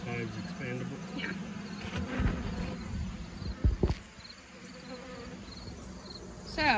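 Bees buzzing around a horizontal beehive during an inspection, several close passing drones rising and fading among quieter hum, with faint voices in the background.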